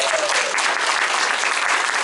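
Audience at a film screening and discussion applauding an invited guest, dense and even clapping from a full room that holds at a steady level throughout.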